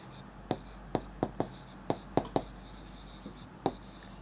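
Pen or marker writing out a maths solution, a quiet scratchy backdrop punctuated by about nine sharp taps and strokes at uneven intervals, close and solo with no voice.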